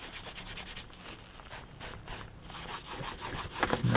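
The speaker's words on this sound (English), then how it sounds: "If you give it a rub that way, we'll move everything side to side and then blend the shades together." Soft rubbing of oil paint across a plastic 1/48 scale AT-ST model kit, quiet repeated side-to-side strokes with a faint scratchy texture, close and alone.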